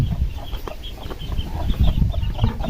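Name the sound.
chicks peeping in a bucket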